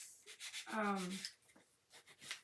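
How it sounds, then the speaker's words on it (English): A small piece of sandpaper rubs along the edge of a Santa's train set piece in short, soft scratching strokes, close by, with a brief voice sound in the middle. "I'm going to sand the edge of this a little bit"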